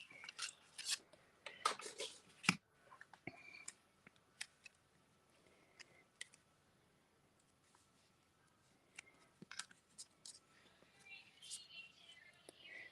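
Small scissors snip paper while fussy cutting a piece for a stamped greeting card, producing quiet close clicks and rustles in scattered bursts, with a long faint lull in the middle.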